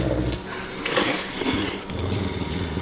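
A dog growls low and intermittently at close range, mixed with soft whimpering noises, with no talk over it.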